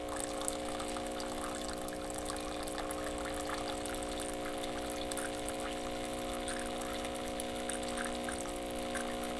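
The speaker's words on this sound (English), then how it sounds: "Pours the hot water right down the spout until you stop it" Philips Saeco Syntia coffee machine dispensing hot water through its spout, a steady pouring hiss with a constant pump hum underneath, continuous and fairly quiet.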